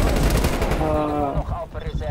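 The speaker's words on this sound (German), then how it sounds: "Ich hab keine Ahnung, von wo geschossen wird." Rapid, loud gunfire in Call of Duty Black Ops Cold War multiplayer on the Garrison map rattles in a dense burst, then trails into a few scattered shots, with a voice talking over it.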